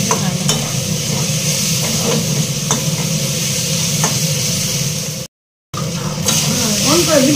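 Chow mein noodles and vegetables stir-fried in a pan, a steady loud sizzle with scraping and stirring throughout, briefly cut by a short dropout near the end.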